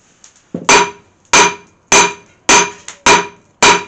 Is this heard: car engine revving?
no